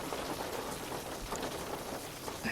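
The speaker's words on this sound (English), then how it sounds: "It's raining." Rain falls steadily in a dense, even hiss of drops that stays constant throughout, with no voices.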